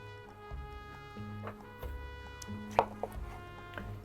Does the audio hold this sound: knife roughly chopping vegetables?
yes